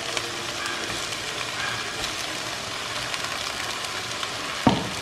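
Pumpkin pieces frying with onion and garlic in a pan give off a steady, close sizzle with faint crackles and a single brief clink of the utensil near the end.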